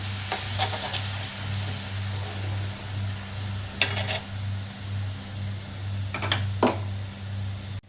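Leftover rice being stirred in a pan with mixed green chillies, curry leaves, coriander and mint, giving a soft steady scraping and light sizzle with a few sharper clinks of the spoon against the pan, fairly close.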